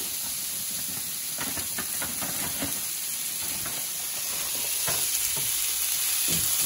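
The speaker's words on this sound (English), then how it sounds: "Butternut squash is going in." Frozen butternut squash goes into a hot pan with chili powder and tomato sauce for an enchilada casserole, giving an even hissing sizzle with scattered stirring scrapes that grows slightly louder toward the end.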